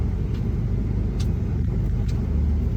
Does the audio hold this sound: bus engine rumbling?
yes